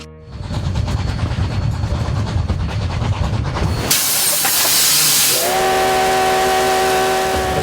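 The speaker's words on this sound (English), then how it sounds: "A coal-fired steam train rumbles through the wide-open prairie of the American West" A historic coal-fired steam train on the Cumbres & Toltec Scenic Railroad rumbles and chuffs loudly, then releases a sharp burst of steam hiss followed by a long, sustained steam whistle blast close by.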